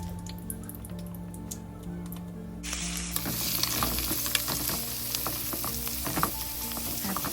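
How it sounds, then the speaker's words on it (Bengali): Whole garam masala spices sizzle in hot oil, then chopped onions hit the pan with a sudden loud burst of frying that keeps crackling and hissing steadily with small pops. The sound is close and heard alone. "গরম মশলাগুলো একটু ভাজার পর সুন্দর একটা গন্ধ আসা পর্যন্ত আমি অপেক্ষা করব এবং এরপর আমি পেঁয়াজ কুচিগুলো দিয়ে দিব।"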